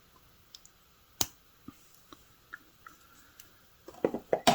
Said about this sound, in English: I'm going to take my cutters that I use for craft wire and head pins and eye pins. And I'm going to cut this off